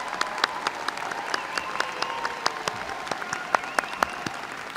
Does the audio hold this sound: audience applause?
yes